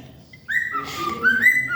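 A pet bird whistles a bright, rising and falling tune close by, alone and clear, beginning after a short quiet pause.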